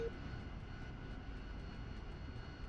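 A Harrier jet engine in DCS running up, a steady loud roar with a high whine held evenly throughout, no voices.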